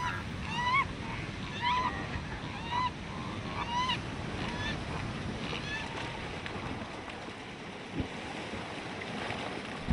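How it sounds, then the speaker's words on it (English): Colony of rockhopper penguins and king cormorants with repeated honking, braying calls rising and falling in short bursts, moderately near, over a constant roar of wind and surf. "King cormorants live in close proximity to the rockhopper penguins."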